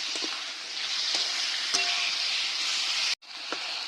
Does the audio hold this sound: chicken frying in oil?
yes